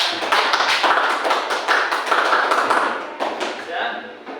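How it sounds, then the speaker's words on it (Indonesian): Pupils in a classroom clap their hands together during a lesson, a quick, uneven patter of claps sustained for about four seconds before easing off, with children's voices mixed in underneath. "tepuk tangan untuk kita semua"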